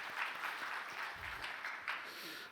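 A church congregation applauding during a Wednesday worship service, a steady wash of clapping that fills the room at moderate volume throughout, with no clear speech on top.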